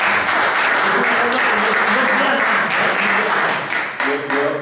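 Audience applause fills a town council plenary meeting: steady, dense clapping from many hands that runs the whole time, easing slightly near the end as a voice begins under it.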